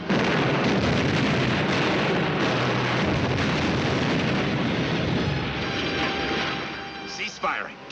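Tank cannon and gunfire in a battle scene from the war film The Tanks Are Coming, a dense, loud, continuous roar of blasts and rumble that eases near the end, with voices mixed in.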